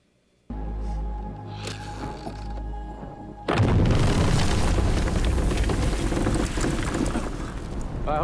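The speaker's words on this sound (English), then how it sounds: "It's a big explosion." The Trinity atomic bomb test explosion from the film Oppenheimer: a low rumbling swell builds, then at about 3.5 seconds a massive, sustained roaring blast erupts and fills the sound, staying loud until the end.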